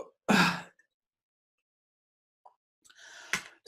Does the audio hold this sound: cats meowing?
no